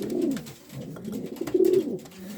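Soft, throaty homing pigeon coos repeat in a slow rolling rhythm, close by, with a quiet background and no talking.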